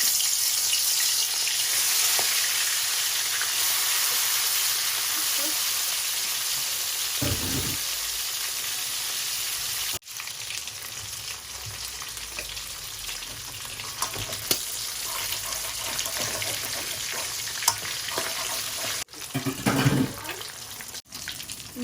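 Hilsa fish pieces sizzle steadily in hot oil in a home kitchen pan, a continuous, fairly loud frying hiss with a few brief bumps and clicks, no voices.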